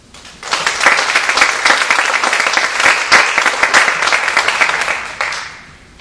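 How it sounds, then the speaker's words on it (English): An audience at a Brescia Alpha Chi honor society induction bursts into loud, sustained applause for about five seconds before the clapping fades away. "Big round of applause, please."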